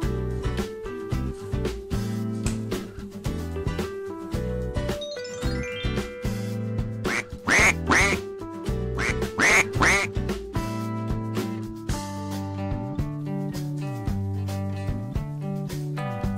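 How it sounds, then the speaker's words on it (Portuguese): Repeated duck quacks over a bright, tinkling musical backing, with a few short quack bursts standing out in the middle. "pato."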